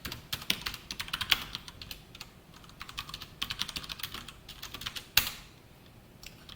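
Keys clatter on a computer keyboard during a Java programming lecture, a close, fairly quiet run of quick irregular taps with a few sharper strikes and short pauses, with no voice over it.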